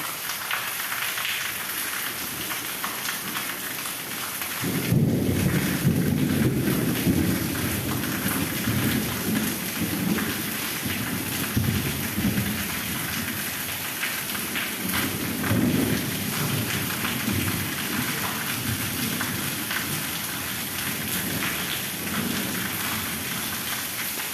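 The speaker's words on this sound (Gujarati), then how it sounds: "એ હજી ચાલુ જ છે વરસાદ તમે જુઓ" Heavy rain pours down continuously, a dense roaring wash with low rumbling swells, loud and close, with no voices.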